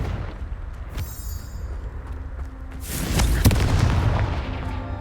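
A Confringo spell blast in a Harry Potter video game lands as a deep booming explosion with a sharp crack, followed by a rumbling low roar; faint earlier effects precede it.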